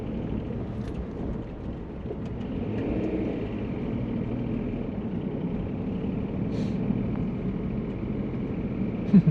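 A small Daihatsu Cuore city car pulls away from a stop, its engine running with a steady low rumble and drone heard from inside the cabin, with no talk.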